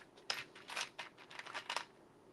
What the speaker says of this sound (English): I can cut the push pin part off